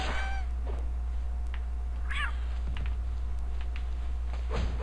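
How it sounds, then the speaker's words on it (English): A cat-like creature in the video game Palworld meows several times, with a plaintive, close call at the start and fainter mewing cries following over a steady low background hum. "You look like a cat."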